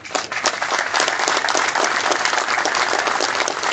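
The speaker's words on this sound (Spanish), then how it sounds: "Un fuerte aplauso." Loud, dense audience applause at a civil society event in Lambayeque about the Puerto Eten regional port terminal, steady clapping from a large crowd for several seconds.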